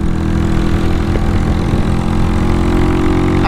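A Honda Titan 250cc motorcycle with a retuned carburetor runs at a steady, close idle, its low engine note even and continuous with no other sounds.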